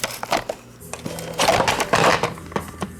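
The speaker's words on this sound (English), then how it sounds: "And I'll remove the dustbin here a second." Plastic dustbin being unlatched and pulled from an iRobot Roomba 610 Professional Pet Series vacuum, a quick run of close clicks, snaps and rattles with brief scraping.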